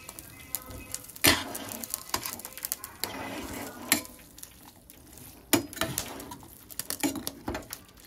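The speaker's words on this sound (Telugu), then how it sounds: "ఇలా బాగా అయితే మిక్స్ చేసేసుకోవాలి" Roasted cashews stirred into sweet pongal in a pot, with soft scraping, clinks of a spoon against the vessel and a few sharper knocks, close and fairly quiet.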